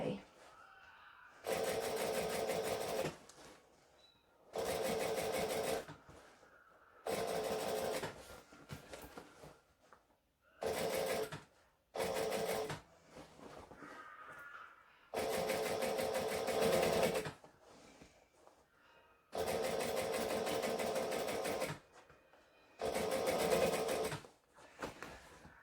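A sewing machine top-stitches a bag in a run of loud, steady whirring bursts of varying length, separated by quiet pauses with faint handling sounds.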